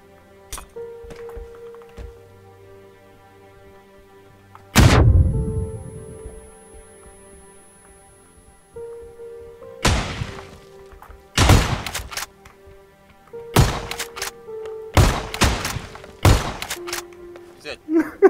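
Bombs exploding in a string of sharp, heavy blasts at irregular spacing over a steady low hum, the first booming loud and alone, the rest arriving in a quicker cluster.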